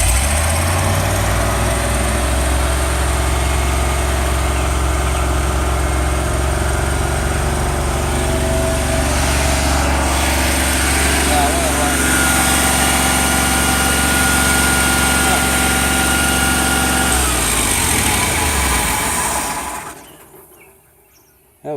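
A W150 engine runs at a steady, loud, even idle with a deep hum, then cuts off near the end, leaving near silence.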